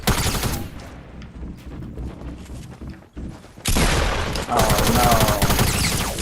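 Rapid automatic gunfire in a video game, bursts at the start and then a loud sustained fusillade in the second half, with a player briefly exclaiming over it.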